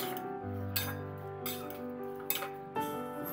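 Vegetable balls for veg manchurian being stirred in a pan, giving repeated clinks and scrapes of a utensil against the cookware over a steady low cooking hum, close and moderately quiet, no voices.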